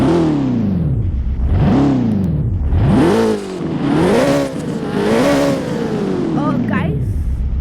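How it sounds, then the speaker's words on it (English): McLaren 600LT supercar engine revved hard several times, each blip surging up and dropping back in quick succession, loud and close, with a voice in the background. "Now let's rev."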